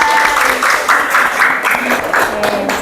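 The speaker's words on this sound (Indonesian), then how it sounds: "Tepuk tangan buat kelompok 2" A classroom of junior high students claps for a presenting group, steady applause with a lively rhythm that fills the room throughout.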